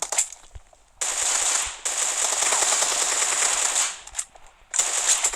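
Sustained automatic gunfire from a video game weapon, fired in long loud bursts with brief pauses between them, then a final burst starting up after a short gap.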